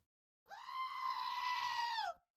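A single goat in Minecraft gives one long, loud, nasal bleat lasting well over a second, clear and close against near silence, with no talking.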